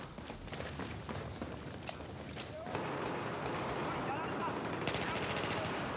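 Pistol gunfire in a Battlefield 4 pistol-only server, quick sharp shots mixed with a continuous battle din, under a player's talking.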